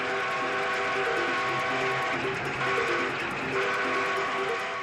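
A steam locomotive runs while its whistle sounds, a sustained tonal blast layered over a rumbling, rhythmically clacking train, with no voices.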